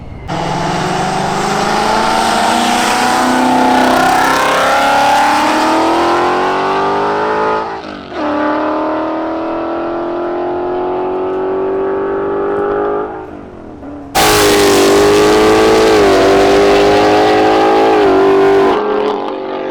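Chevrolet Camaro with a new X-pipe exhaust revving hard, loud close engine climbing in pitch through gear pulls, a short break, then another strong roaring pull.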